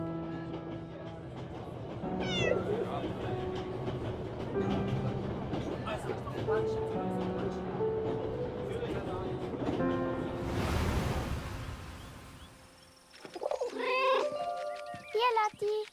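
A cat named Lotti meows repeatedly in the video game 11-11 Memories Retold, with a series of close, pitched meows over ambient background and music, ending with a burst of noise and more bright meows.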